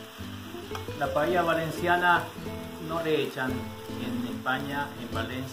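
Onion and red bell pepper sizzle and are stirred in a pan, the base for a mixed chicken and seafood paella. The steady frying runs beneath continuous talk.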